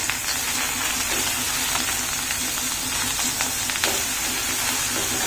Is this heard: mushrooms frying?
yes